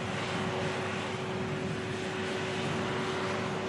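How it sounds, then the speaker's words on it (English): An Air Transat airliner rolls past on the runway with a steady, even jet engine roar and a constant tonal whine, moderately distant and unchanging throughout, with no voices. "Air Transat rolls past us."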